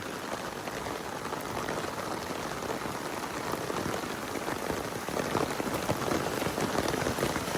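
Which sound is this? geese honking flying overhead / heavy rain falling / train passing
heavy rain falling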